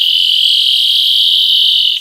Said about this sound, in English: this is a sound alarm